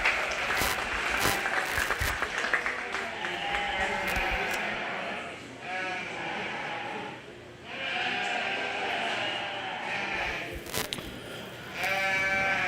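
Crowd applause for exhibitors at a county fair 4-H and FFA sheep show with Hampshire ewe lambs, scattered clapping at first, then loud bleating of sheep in repeated calls that continues through the rest of the clip.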